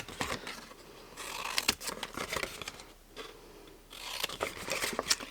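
Scissors cut a triangle away from a card template for a fold-flat Christmas Scottie box, rapid crisp snips and paper rustle close up in two bursts separated by a short quieter pause.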